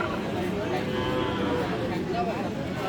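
Sahiwal bull calves at a busy cattle market, with mooing heard under crowd chatter and steady outdoor noise.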